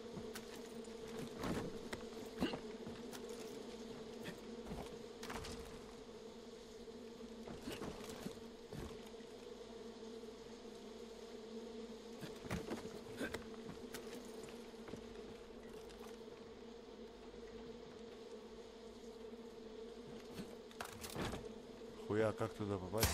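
A continuous drone of bees hovers around an apiary in Far Cry 5, holding steady for a long stretch with occasional sharp clicks and brief bursts of other game noise, ending in a louder scrape.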